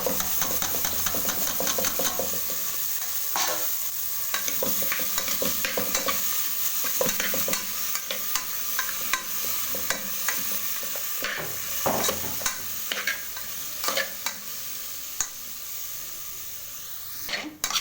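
A spoon scrapes and stirs chickpeas into a pan of tempering over a steady crackling sizzle, with repeated clinks of metal against metal throughout.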